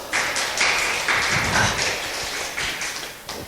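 A seminar audience gives scattered, fairly thin applause, claps rising and fading in uneven bursts across the room.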